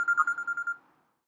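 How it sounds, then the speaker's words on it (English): A telephone rings in a fast repeated electronic trill lasting under a second before fading out, heard alone and fairly close. "Tris calls Masubi on the phone"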